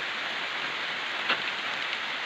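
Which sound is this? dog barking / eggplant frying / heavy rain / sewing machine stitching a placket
heavy rain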